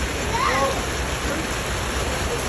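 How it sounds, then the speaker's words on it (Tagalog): Floodwater rushing steadily through a neighborhood during a super typhoon, a continuous broadband roar like a torrent or heavy rain, fairly close and even in loudness, with a faint splash early on. "Ito yung baha guys."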